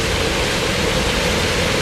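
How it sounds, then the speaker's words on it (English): Steady broadband rush of water from a large pump-fed waterfall at an indoor dinosaur exhibit, continuous and fairly loud with no talk. "And what would a dinosaur exhibit be without a nice waterfall?"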